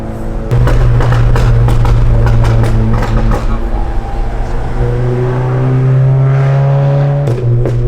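A Stage 2 bagged Volkswagen GTI idles and revs loudly up close, its engine and exhaust giving a deep steady drone that rises and falls with throttle blips, with no talking over it.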